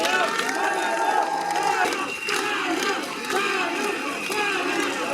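Protesters of the Colourful Revolution gathered outside a court greet Bogoevski with loud, continuous crowd cheering and shouting, a dense roar of many voices close by.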